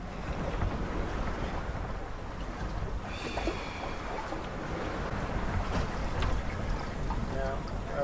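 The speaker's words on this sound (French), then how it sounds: "Il y a 12 nœuds de vent" Wind around twelve knots blows across a sailboat at sea on an ocean passage, a steady rushing roar with water swishing against the hull, loud and close throughout.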